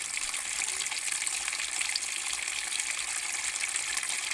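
Water gushes and swirls without a break, close and steady, as it is circulated in a betta fish tank.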